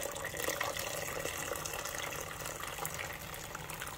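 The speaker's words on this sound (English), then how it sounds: "pour it into the pot." Liquid poured from a pot into another pot while making chicken soup starter for pressure canning, a steady continuous splashing pour throughout.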